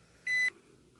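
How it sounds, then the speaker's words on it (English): A microwave oven gives a single short, clear electronic beep, close and steady in pitch, with quiet room tone before and after. "This is out of the microwave."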